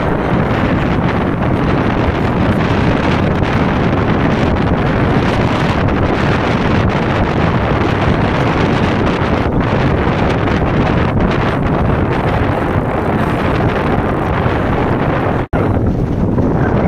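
Strong wind roars steadily against the microphone during a ride near a tunnel, a loud, dense, unbroken rush that fills the whole stretch and briefly cuts out near the end.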